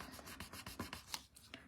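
Paper rubbed over an ink line to blend it in a dragonfly collage, giving a quiet series of short, soft scratchy strokes in an even back-and-forth rhythm, close and faint.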